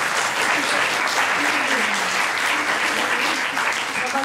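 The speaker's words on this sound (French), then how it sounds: "On peut l'applaudir, hein." Audience applause fills a lecture-performance hall after a staged rugby scrum demonstration, steady dense clapping throughout with faint voices mixed in.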